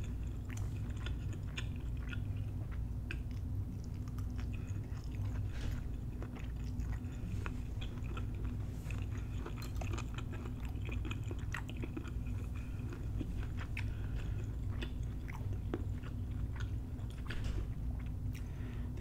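Someone eats steamed cabbage and Jamaican oxtails in close-mic mukbang fashion, with soft wet chewing and faint crunches running steadily under a constant low background hum.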